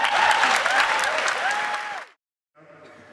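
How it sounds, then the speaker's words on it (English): Warm audience applause for the judges at the Jack Petchey "Speak Out" Challenge grand final, a steady burst of clapping lasting about two seconds before cutting off, then faint noise. "please give a warm round of applause to our judges that will be deliberating tonight."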